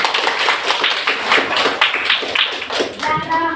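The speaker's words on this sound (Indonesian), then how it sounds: "tepuk tangannya" Children applauding in a classroom, a steady patter of many small hands clapping together for a few seconds at close range, with some voices mixed in.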